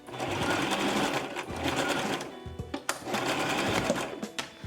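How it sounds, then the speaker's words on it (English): Sewing machine stitching a hair weft track onto a frontal wig, a steady close whirring run that pauses briefly midway before starting up again, with no talking. "I'm sewing my first track."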